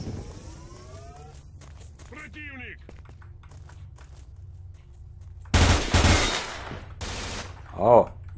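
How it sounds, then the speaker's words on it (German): Gunfire in the video game S.T.A.L.K.E.R. comes through as two loud broadband bursts near the end of an otherwise quiet stretch, with faint chirpy game sounds earlier and no speech over them. "Langsam kriege ich das Gefühl, der schießt auf mich."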